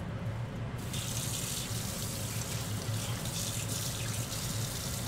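Water running steadily from a kitchen tap while cooking a pork loin dish, a continuous rushing splash that starts abruptly and stays loud and close, with no talk.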